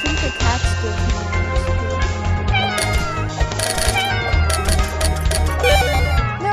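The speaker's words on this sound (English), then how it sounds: "Ooh, another cat." A cat meows in the browser game Tower Of Destiny from Cool Math Games, its repeated cries set over busy, loud game music and effects.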